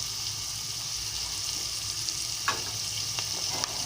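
Amaranth leaf curry with onions, salt and turmeric frying in a pan, a steady sizzle broken by a few clinks and scrapes of stirring.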